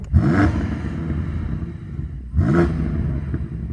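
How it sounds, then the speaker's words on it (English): A BMW M5 Competition engine revved twice to its soft limiter, each rev rising sharply then holding a loud, close, rumbling roar before easing off, with no talk. "I'm going to rev this Competition up"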